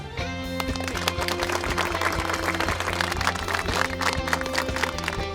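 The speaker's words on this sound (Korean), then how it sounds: "뜨거운 박수로 환영 인사합시다." Warm welcoming applause for a visiting pastor at a church sendoff for military trainees, a dense continuous clapping crowd heard over a steady background of music or hum with tonal lines.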